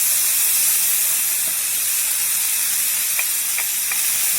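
Tomato frying in a paella pan, a steady, close sizzle and hiss that runs unbroken throughout, with a few faint clicks of stirring near the end.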